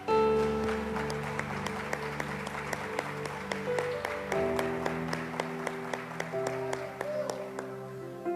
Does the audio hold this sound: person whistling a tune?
no